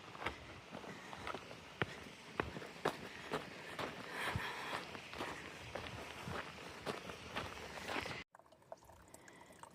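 Footsteps crunch along a trail beside a mountain creek in the Sierra backcountry, uneven steps over a steady low wash of flowing water, fairly quiet, ending abruptly near the close.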